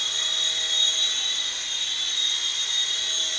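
Toy RC helicopter with a DC Comics theme buzzing steadily nearby, a continuous high-pitched motor and rotor whine that holds even throughout without pauses or talk.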